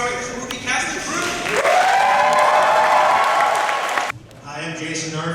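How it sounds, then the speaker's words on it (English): A convention audience at a Power Rangers film retrospective panel applauds the movie cast and crew, with loud sustained clapping and cheering swelling after an announcer speaks, then cutting off. "everyone give a warm round of applause to the Power Rangers the movie and Turbo Power Rangers the movie cast and crew"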